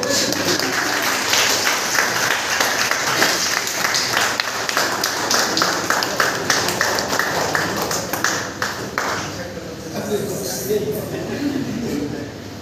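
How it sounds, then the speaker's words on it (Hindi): Loud, sustained applause from a large audience at a gathering rolls on continuously for several seconds, dense and thunderous, then thins out toward the end. "तालियों की जो गड़गड़ाहट है"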